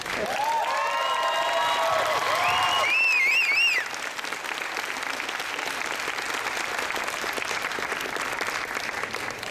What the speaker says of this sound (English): One more welcome round of applause for Matt.